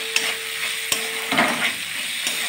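Chopped ingredients for a winter eggplant mash fry in a pan with a steady, loud hiss while a spoon stirs them, adding a couple of sharp scrapes and knocks nearby.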